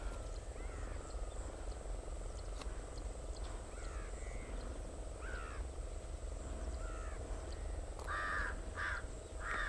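A frog croaks in short repeated calls near a field where fishing nets are set, faint against a constant outdoor hum, with a few louder calls near the end and a crow cawing among them.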